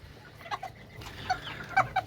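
Newly hatched Serama chicks give a few short, high cheeping peeps in scattered bursts, fairly faint and close, with no talk over them.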